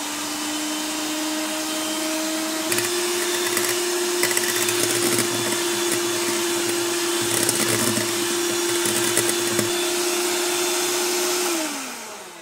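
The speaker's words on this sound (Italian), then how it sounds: "dopo 3 minuti più o meno con le fruste, la nostra meravigliosa crema al caffè è pronta" An electric hand mixer whisks instant coffee, powdered sugar and water into a coffee cream in a bowl, giving a loud, steady motor whine with a brief pitch shift before it stops near the end.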